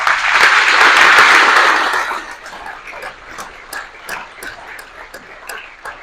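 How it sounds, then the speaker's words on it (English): Loud audience applause for Louisiana legislators at a Donaldsonville event, a dense burst of clapping that swells for about two seconds, then thins to scattered, lighter claps. "This is a group that needs a round of applause."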